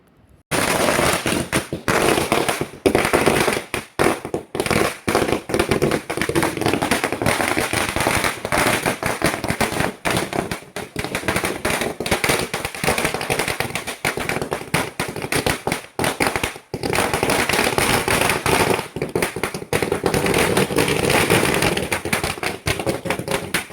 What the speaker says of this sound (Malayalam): പിന്നെ ഫുള്ള് പടക്കപ്പൂരാ കേട്ടോ.